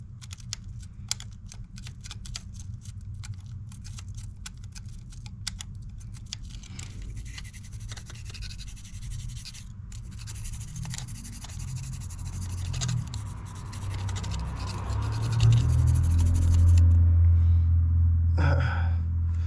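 A scraper works at carbon buildup on engine intake valve tops in short repeated scratchy strokes, close and dry, with a low rumble rising near the end.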